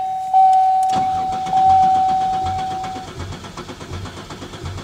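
A steady electronic tone sounds, then a 1995 Buick Riviera Supercharged engine cranks with a rapid, rhythmic churn, close and fairly loud, continuing without catching.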